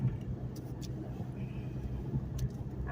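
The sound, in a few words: 1998 Ford Mustang car driving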